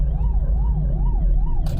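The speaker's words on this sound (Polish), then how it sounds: "Policja na sygnale" A police car siren wails in a steady rising and falling cycle close by and loud over low traffic rumble, with a brief burst of noise near the end.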